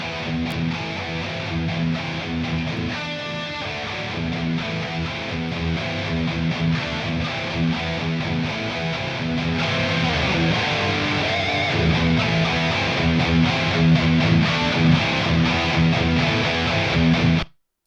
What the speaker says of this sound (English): this is his main distortion tone